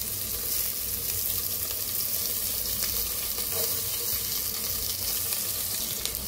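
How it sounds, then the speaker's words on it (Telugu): Chopped onions fry in hot oil for a South Indian kushka rice dish, making a steady, dense sizzle that hisses evenly throughout. It is close and loud, with no speech. "నేనైతే ఆనియన్స్ అయితే వేసుకుంటున్నాను."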